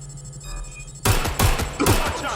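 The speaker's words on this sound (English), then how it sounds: "Shooting!" Gunfire in the video game Watch Dogs Legion: after a quiet second, a loud burst of rapid shots breaks out in three close volleys, sharp and near.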